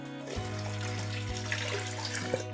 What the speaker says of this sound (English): what I'm gonna do now is put in 2 cups of water